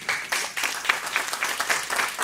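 An audience applauds a conference speaker as she is invited to join the stage, a dense burst of steady clapping that carries at moderate loudness for a couple of seconds.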